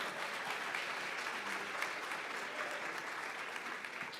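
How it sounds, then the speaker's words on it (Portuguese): A church congregation applauds during a pastor's anniversary conference sermon, steady dense clapping that holds at an even level throughout, distant and somewhat faint. "Aplauda o nome do Senhor."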